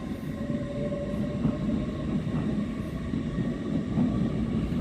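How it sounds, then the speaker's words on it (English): Class 170 Turbostar diesel multiple unit at Doncaster station, a faint steady rumble of the train running with a low engine drone and light rhythmic wheel clatter, heard from a distance. "Class 170 Turbo Star."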